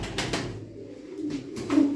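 Gökbenek pigeons coo nearby in a few soft, throaty bursts over a quiet background.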